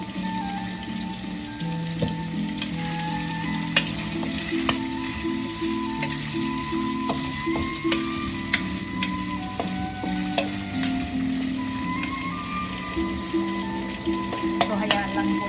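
Shrimp sizzles steadily in a hot pan while being stirred, with a constant close frying hiss broken by frequent light scrapes and clinks of the utensil against the pan.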